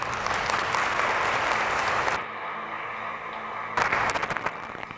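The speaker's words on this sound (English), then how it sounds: "Let us give them a round of applause." A church congregation applauds fathers at a Father's Day weekend Mass, with loud close clapping that stops abruptly, leaves a brief quiet hum, then bursts back in with fresh scattered claps.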